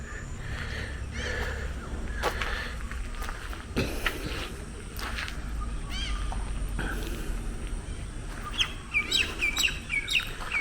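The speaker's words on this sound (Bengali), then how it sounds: "প্রচুর পাখি ডাকছে" Many birds chirping and calling at once around a homestead garden at Sisamara near Jaldapara, with bright repeated tweets throughout, some footsteps and faint background activity, a busy continuous chorus.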